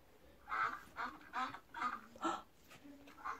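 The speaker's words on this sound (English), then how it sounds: "It's a duck." A duck quacks in a short series of about six evenly spaced calls, fairly faint and alone against a quiet background.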